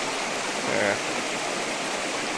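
Fast-flowing stream water rushing through hills, a steady broadband roar that fills the short clip at close range with no clear breaks.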